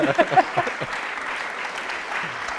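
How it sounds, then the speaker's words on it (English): An audience at a St Mary's Upton evening event bursts into applause and cheering, a loud burst of clapping that settles into steady sustained applause from a close crowd. "That's the biggest cheer of the night."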